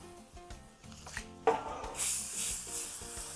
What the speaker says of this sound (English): we're going to spray our baking sheet with cooking spray